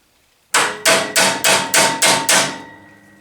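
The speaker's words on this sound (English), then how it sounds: "I'm going to try to pop it with a hammer and a punch." Seven sharp metal hammer blows on a punch, evenly spaced, ring out loud and close while working on a 1972 Hahn-Eclipse Snow Giant snow blower with a Tecumseh H60 engine, the last strike leaving a fading ring.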